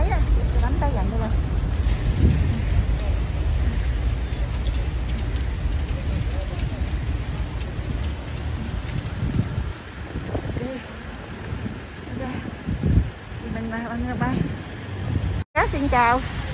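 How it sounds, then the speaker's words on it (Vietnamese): Heavy rain pours steadily on a road in Queens with a dense hiss and gusty wind noise, while a person talks over it throughout. "mưa quá, mưa lớn quá"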